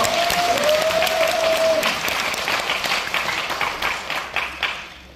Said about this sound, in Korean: 큰 박수로 해주십시오.